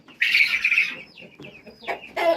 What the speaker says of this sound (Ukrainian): У мене інші курчатки, ну ці ще маленькі.